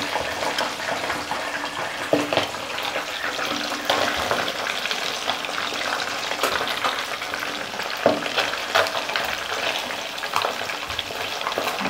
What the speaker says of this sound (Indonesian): Jadi kalau menggoreng itu jangan dilempar, tapi dekatkan ke minyaknya.